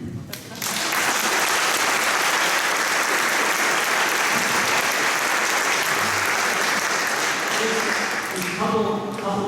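Audience at a county sheriff candidates' debate breaks into loud, sustained applause, a thick roar of clapping that starts abruptly and holds steady, with a voice coming in briefly at the end.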